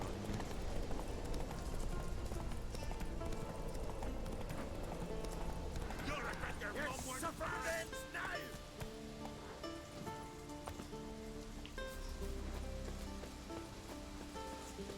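Geralt's horse Roach gallops in The Witcher 3 with a steady clip-clop of hooves over rain, while someone talks over it throughout.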